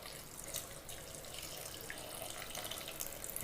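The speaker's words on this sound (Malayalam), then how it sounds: "ഇനി വെള്ളം ഒഴിക്കുക" Water is poured into a pot of bean curry before it goes on the stove: a soft, steady, faint trickle and splash continues throughout, rising slightly at the very end, with no talking.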